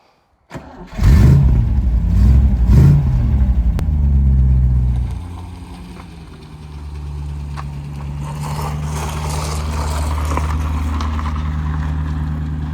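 An MGB GT V8 engine cranks and fires into a loud, throbbing run, then drops back to a lower, steady idle and drive rumble that continues without talk.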